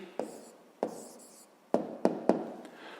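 A pen or pencil writes an answer to a fifth-grade maths exercise on paper, making several sharp taps and short scratching strokes at uneven intervals, close and fairly quiet.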